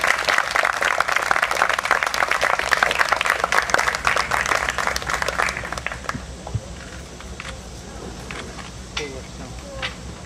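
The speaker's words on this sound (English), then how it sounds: "Give them a big round of applause, everybody." Crowd applause at a political rally in Columbus, Ohio, loud and dense for about six seconds, then thinning to scattered claps and cheers with speech-like murmur underneath.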